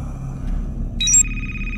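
A brief electronic phone ring chirps in a SpongeBob-themed video game: a quick rising sequence of bright beeps followed by a steady tone, after a moment of quiet game ambience.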